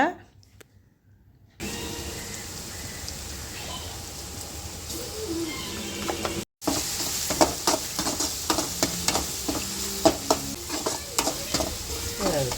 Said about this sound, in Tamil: அந்தளவு கோல்டன் ப்ரௌன் கலரில் வந்து நல்லாவே வதக்கிக்கணும்